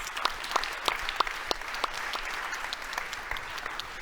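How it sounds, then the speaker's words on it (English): An audience at an urban mobility expert roundtable applauds the speakers with steady, dense clapping that stays even and close throughout, with no talking. "Applause, please, for our speakers."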